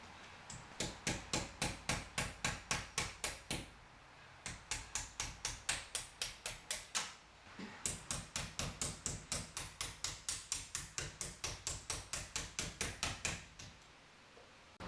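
Metal hammer strikes drive the pins out of a Corvette C8 Z06 brake caliper, coming in three fast, evenly paced bursts of sharp ringing taps with brief pauses between them, loud and close, with no talking.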